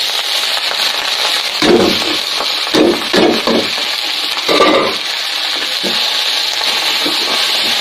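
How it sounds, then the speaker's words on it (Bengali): Food fries in a pan at a small noodle shop, giving a steady hiss with several louder bursts of stirring and sputtering spread through the stretch. No one speaks. "এটা আরো ভাজা ভাজা হবে"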